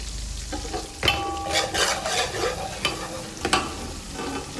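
Cumin seeds hitting hot butter for a hotel-style dal makhani give a steady close sizzle, with sharper spattering bursts and light clinks of a utensil against the pan, and no voices.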